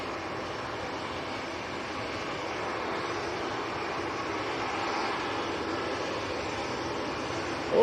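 A Jet2 airliner taxiing at Manchester Airport on a windy day gives a steady, distant engine roar that stays even throughout, with no voices over it.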